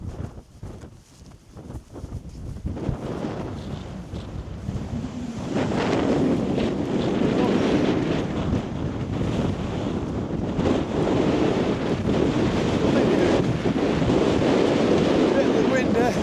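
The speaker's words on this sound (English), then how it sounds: "That wind is absolutely bitter." Bitter wind batters the microphone on a Lake District fell near Dodd Crag and Ling Fell summit, a roaring, gusty rush that builds from patchy buffeting into a loud, steady blast.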